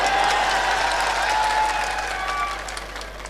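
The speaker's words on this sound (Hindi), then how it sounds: "बजाओ ताली" Audience applause at an all-India Hindi poetry recital (kavi sammelan), a dense, steady wash of clapping from a large crowd that holds strong and then thins slightly toward the end, with some musical tones ringing underneath.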